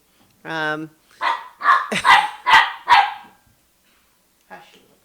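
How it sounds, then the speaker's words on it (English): A small dog barks in a quick run of five or six sharp, high yaps nearby, then one faint yip after a pause. "little dog is barking."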